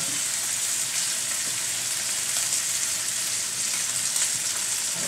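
Ribeye steak and onions sizzling together in a pan, with the onions beginning to caramelize, a dense continuous hiss and crackle, steady and close throughout with faint scattered pops, no voices.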